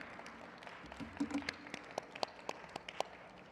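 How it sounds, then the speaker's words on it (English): An awards-ceremony audience applauding Acura for its Look Up campaign: faint, thin, scattered claps from a small crowd, building briefly and then continuing sparsely. "let's have a round of applause for Acura for their Look Up campaign"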